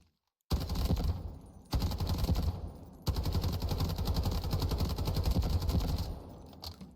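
Rapid automatic gunfire from a modded rifle on a shooting range in the Delta Force video game, loud sustained bursts starting abruptly with two short breaks, then a long continuous stream fading near the end.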